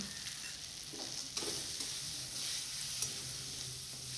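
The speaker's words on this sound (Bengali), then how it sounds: "ধনেপাতাটা একটু মশলার সাথে ভালো করে মিশিয়ে নেব, নাড়াচাড়া করে" Fresh coriander leaves are stirred into a sizzling chicken curry masala. A soft, continuous frying hiss carries light scraping stir strokes and occasional faint clinks.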